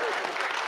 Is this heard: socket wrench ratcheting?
no